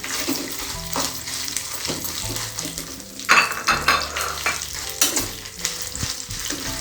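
Red chilies sauté in a pan for an Andhra-style pickle, a dense sizzle mixed with clinks and scrapes of a utensil against the pan, and a few sharper bursts midway, with no voices.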